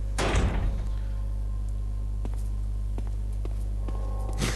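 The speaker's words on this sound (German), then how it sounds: "Sie haben die Tür aufgeschlossen." A door opens in the survival horror game Resident Evil HD, with a heavy thud and rattle at the start, then a few faint clicks and knocks over a steady low game hum, with no talking.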